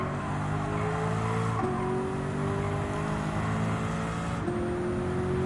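Lamborghini Urus engine in Gran Turismo 7 during a road race, a steady loud drone whose pitch climbs through gears with sharp drops at shifts, tire noise underneath, no talking.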